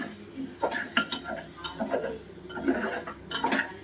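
A spatula scrapes and knocks through washed dalia and winter vegetables lightly frying in a pan, giving uneven, closely spaced strokes and soft clinks over a faint sizzle.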